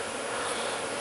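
Steady, dense buzzing of many honeybees at a hive in New York City, a continuous close drone with no pauses and no voices.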